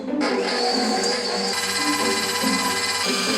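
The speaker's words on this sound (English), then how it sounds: "In the bowl of a stand mixer fitted with a whisk attachment, cream together the butter and sugar until light and fluffy" A stand mixer with a whisk attachment creams butter and sugar for a sour cream pound cake, a steady close motor whir with a bright high-pitched hum running unbroken throughout.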